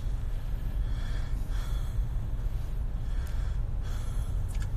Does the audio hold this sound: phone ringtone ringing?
no